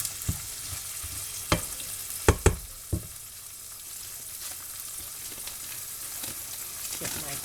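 Green salsa and green chilies cooking down in a pan, a continuous bright sizzle with a few sharp clacks of stirring early on, then an even frying hiss.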